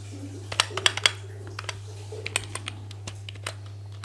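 Computer keyboard typing while entering PHP code, with sharp, irregular key clicks, some in quick clusters and some spaced apart, fairly close and over a steady low electrical hum.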